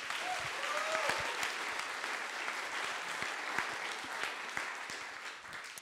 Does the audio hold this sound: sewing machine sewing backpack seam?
no